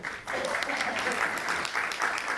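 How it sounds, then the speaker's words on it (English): An audience at a live musical show claps steadily for a couple of seconds, a moderate, even wash of applause starting after a brief pause. "you're going to give it a very decent clap"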